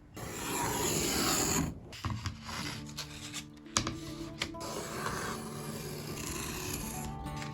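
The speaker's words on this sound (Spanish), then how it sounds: "vamos a cortar el excedente de cartulina" Excess cardstock is cut while a spiral notebook is being re-covered by hand, a steady rasping scrape that breaks into short choppy strokes and then settles into a softer continuous rub, close up.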